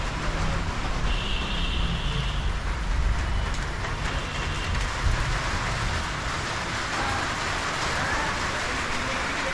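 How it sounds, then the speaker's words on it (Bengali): Steady rain falls outside a hospital mosque, a dense, even hiss that continues unbroken at moderate loudness with no voices. "এখানে আমাদের কিছুক্ষণ অপেক্ষা করতে হবে বৃষ্টি না ছাড়া পর্যন্ত"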